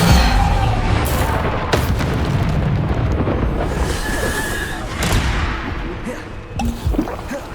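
Bombarda explosion spells going off in Hogwarts Legacy, with several sharp booming blasts cutting through a busy, loud battle mix of rumbling effects and occasional voices.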